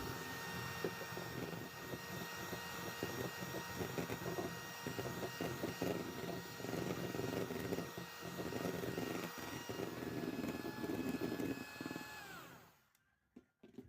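An electric mixer whirs steadily as it whips egg whites with powdered sugar for a cake, a continuous motor hum with faint rattling that runs about twelve seconds before switching off.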